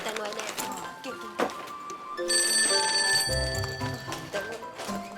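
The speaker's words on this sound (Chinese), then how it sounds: "阿母，敢若有电话呢？" A home telephone rings with bright, repeated bell-like tones in the middle of the scene, over a background of soft music and room noise.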